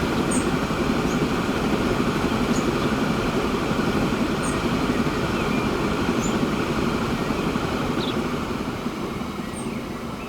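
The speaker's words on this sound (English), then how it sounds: "it's the other double-header goods train, machines train" A double-header goods train carrying machines in the Transport Fever 2 game, steady rumbling wheels and wagon rattle running close by, dotted with faint short squeals, easing slightly toward the end.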